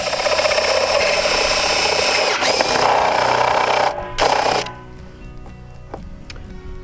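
A power drill fitted with a 1-inch bit bores a hole through a plastic rain barrel, whining loudly and steadily, then cutting out abruptly as the bit breaks through and leaving a quieter tail.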